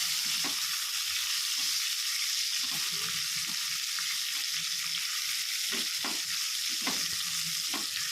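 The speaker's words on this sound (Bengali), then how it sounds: "এবার এটাতে দিয়ে দেবো টমেটো কুচি।" Chopped tomato fries in spiced oil for a lau chingri curry, giving a loud steady sizzle up close with scraping stirring strokes now and then.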